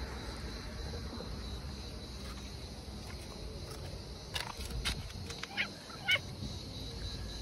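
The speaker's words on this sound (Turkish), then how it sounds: "Kuşlar da geldi." Geese or other fowl honk outside, several short calls near the end over a steady background hiss.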